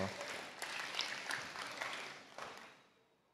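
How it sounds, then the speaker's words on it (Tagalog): A church congregation at a midweek Thursday evening service claps, a soft, fairly distant round of applause that tapers off toward the end, with talk faintly under it. "Bigyan natin sa Panginoon ng pinakamalakas na palakpak sa oras na ito."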